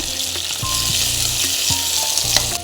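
Tomatoes and curry leaves sizzle in a pan of frying fish, a steady loud hiss with faint clinks of a utensil now and then.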